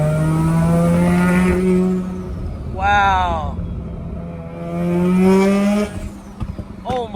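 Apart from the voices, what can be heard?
Mazda RX7 engine revving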